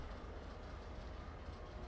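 Rumo freight train in the Open Rails simulator game, a steady low rumble of rolling wheels and cars with faint clatter, continuous and moderately close throughout.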